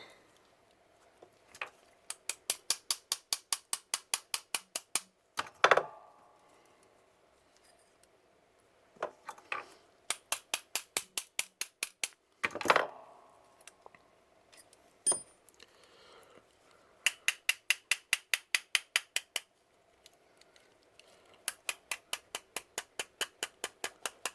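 A SIG P320 pistol is put back together with small metal parts, giving repeated bursts of rapid, crisp ratcheting clicks in quick even runs, broken by a few louder single clacks and short pauses, close and fairly quiet.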